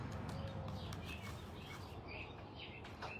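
Faint birds chirp outdoors in short scattered calls, distant and soft under a steady outdoor background hiss, with no talking.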